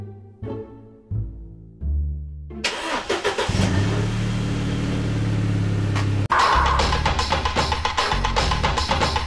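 A car engine cranks in short bursts, then catches and roars to life, settling into a loud, steady running idle with a brief cut and restart near the end, close by with no talking.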